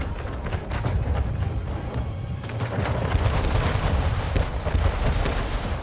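Ship cannons fire in a naval battle in Anno 1800, a strategy game, as heavy booms roll one into another, loud and continuous, rumbling with dense low-end blasts and no gaps.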